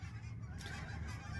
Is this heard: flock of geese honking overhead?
yes